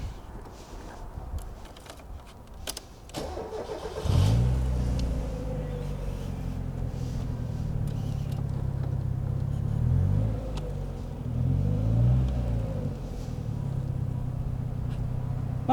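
A 1997 Mitsuoka Zero-1 with a light clutch and narrow tyres pulls away on a short test drive after door and seat shuffling, its engine rising and falling through gear changes as a steady cabin rumble.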